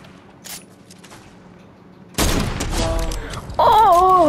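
OG weapon fire in Fortnite: a sudden loud burst of shots after near-silence, followed by a louder wavering tone, close and alone.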